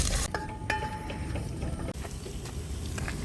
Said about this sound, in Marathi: आता आपण लसूण ॲड आता थोडं लसूण शिजू द्या